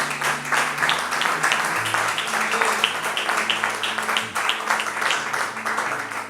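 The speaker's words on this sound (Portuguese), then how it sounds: "vamos dar um forte aplauso para os amigos que estão conosco" Congregation applause during a Pentecostal church service, dense clapping from a large group under a low sustained hum, steady and loud throughout with faint murmuring voices mixed in.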